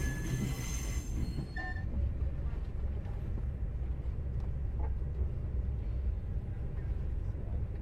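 Sleeper train arriving at KL Sentral station in Kuala Lumpur, with a loud, steady rumble of wheels and carriages rolling in, a brief high wheel squeal early on, and continuous rail noise carrying through to the end.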